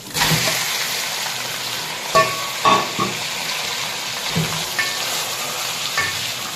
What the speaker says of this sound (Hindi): इसे अच्छी तरह इसमें फ्राई करना है ताकि गोश्त जो हमने बॉईल किया था तो थोड़ा नरम हो गया था